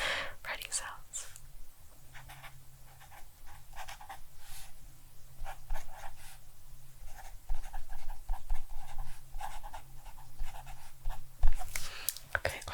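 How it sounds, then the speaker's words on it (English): Pen scratching across the pages of a 2025 planner, close and soft, with intermittent strokes and pauses mixed with whispered talk. "I'm trying to position myself in a way that you might hear the writing sounds."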